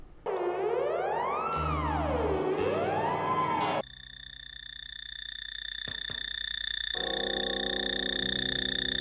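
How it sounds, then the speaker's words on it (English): Shrill, high-pitched alien technology effects from the 1973 animated film Fantastic Planet: sweeping sine-like wails rising and falling in waves, then steady piercing electronic tones with brief pulses, loud and continuous. "Shrill, high-pitched sounds."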